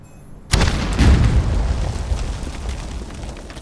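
A trebuchet shot in Conan Exiles lands as a sudden loud boom, followed by a long rumbling explosion that slowly fades over a few seconds.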